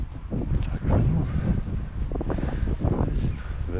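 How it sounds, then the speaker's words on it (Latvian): Strong wind buffets the microphone at a Sunday fishing spot by a lake shore, a loud continuous roaring rumble with gusty surges and no talk. "vējš ir diezgan jaudīgs"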